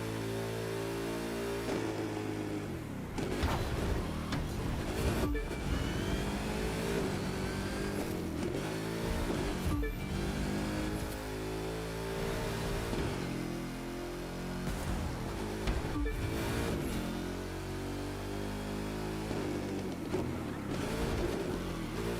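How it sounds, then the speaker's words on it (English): A car engine held at full throttle in The Crew 2, roaring loud and continuous with repeated rising and falling revs as gears shift, running unbroken for over twenty seconds with no talk. "Time to go full throttle and make some noise for everyone watching from their hotel windows"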